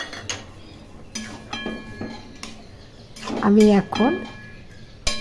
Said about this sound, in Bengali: পোস্ত নেড়ে চেড়ে সবজিগুলোর সাথে মিশিয়ে নিলাম